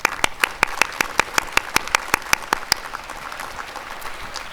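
At Lanier Technical College's commencement ceremony, one nearby person claps loudly and steadily over a softer round of audience applause, which continues after the close claps stop.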